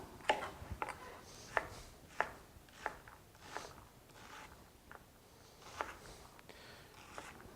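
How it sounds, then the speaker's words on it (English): A knife finely dices an onion on a cutting board in a quiet kitchen, with about a dozen crisp, separate chops coming at an irregular, unhurried pace, close and fairly soft. "I want to dice these relatively fine, like you've seen me do before, being careful not to let the tip of my knife go through the end of the onion"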